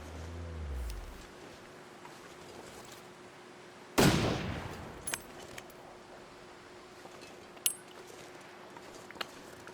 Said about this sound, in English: Now I need to shoot this moose.